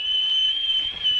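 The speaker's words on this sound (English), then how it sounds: "Did you recognize the sound of the tea kettle?" A tea kettle whistles with a single sustained, piercing high tone, steady and close, filling the whole brief moment with no voices.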